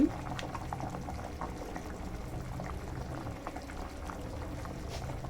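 Rice boiling in a pot for vegetable kichidi, a soft continuous bubbling and gurgling with small pops, fairly quiet and steady throughout.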